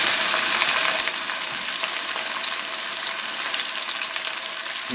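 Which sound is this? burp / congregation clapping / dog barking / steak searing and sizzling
steak searing and sizzling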